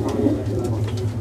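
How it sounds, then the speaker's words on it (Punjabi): A Lalchina pigeon cooing, soft low rolling coos close by over a steady background murmur. "ਵੈਸੇ ਲਾਲਚੀਨਾ ਕਬੂਤਰ ਹੈ ਜੀ"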